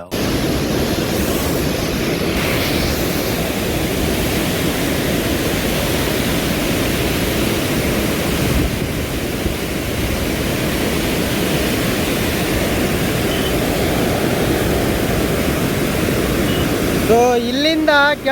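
Water rushes from the open gates of a large dam at Huvina Hadagali, a loud, constant roaring wash close by that holds steady throughout, with a voice briefly heard at the end.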